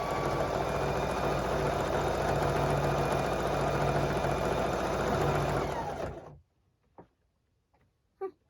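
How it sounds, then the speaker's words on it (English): Sewing machine stitching a farmhouse fabric jellyroll rug runs as a steady, loud, even whir for about six seconds, then stops abruptly, leaving near silence broken by a couple of faint knocks. "when I'm sewing a rug here, I go really slow around the corner"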